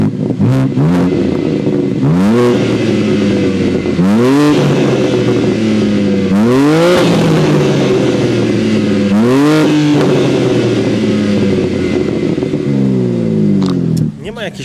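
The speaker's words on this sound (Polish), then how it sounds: "posłuchajcie, jak brzmi wydech w tym samochodzie." A 2024 BMW M2's exhaust note as the 3-litre engine is revved repeatedly, loud and close, with about six sharp rising revs falling back to a burbling idle between them.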